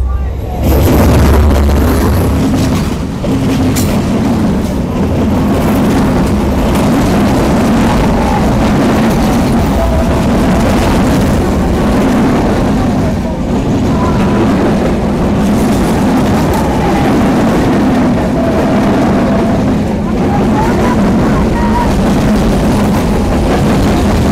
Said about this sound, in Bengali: প্রবেশ করছে আন্তনগর একতা এক্সপ্রেস।